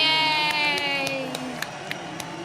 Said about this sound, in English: Oh, look at the crowd are cheering.